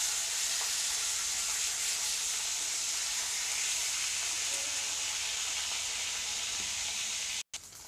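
Fish fries in a pan for an Odia-style fish and potato curry, giving a steady, even sizzle with a bright hiss that holds unbroken for several seconds, close by, and cuts off abruptly near the end.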